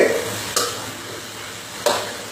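Ingredients fry in hot oil with a steady close hiss, broken by two sharp spluttering bursts as more goes into the pan.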